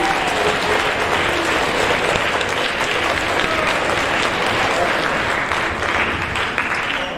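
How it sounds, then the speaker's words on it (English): Steady, dense audience applause at an 8th grade awards ceremony for Mrs. Miller, many hands clapping evenly and loudly throughout. "give her a round of applause"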